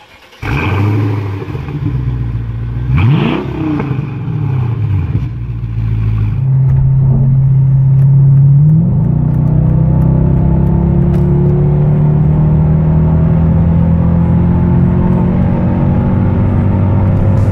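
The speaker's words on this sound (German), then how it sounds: "Ich werde jetzt auf jeden Fall gleich mal mit dem AMG von meinem Bruder fahren noch ein Stück" A 480 hp Mercedes-AMG car with a loud engine that rises and falls as it revs, then settles into a steady, strong drone under acceleration, heard close with no talking.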